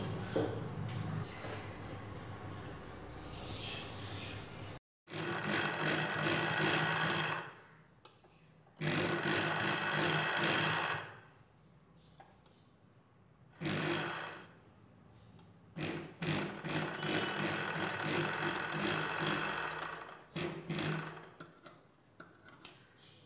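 A sewing machine stitches a fish-cut model sleeve in several bursts of rapid, even clatter, each lasting a few seconds and separated by short quiet pauses, close and clear.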